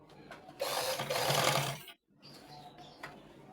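Sewing machine stitching a shirt collar, one loud rapid whirring run, a brief pause, then a quieter second burst of stitching, close and clear.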